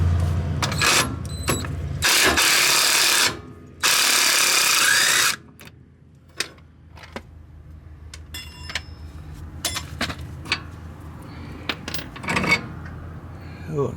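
Pneumatic impact wrench bursts loosening a worn brake bolt on a junkyard Bullnose Ford, two long loud rattling blasts followed by scattered clanks and ratchet clicks of tools in a garage.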